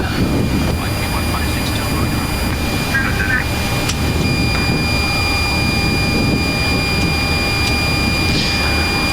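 An Airbus A330's engines hold a steady, loud broadband roar at go-around thrust, heard from the cockpit, with a constant tonal whine running underneath and crew voices talking over it.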